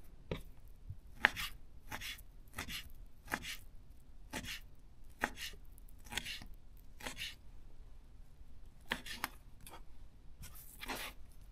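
A Zwilling self-sharpening knife slicing in a sharpness test, about a dozen short, crisp cutting strokes in an uneven rhythm, close and fairly quiet against a near-silent background.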